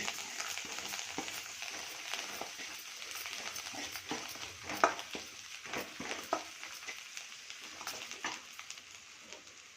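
Sambar powder frying in oil for a chow chow kootu makes a continuous crackling sizzle, broken by frequent small spoon scrapes and stirring ticks, close and fairly loud.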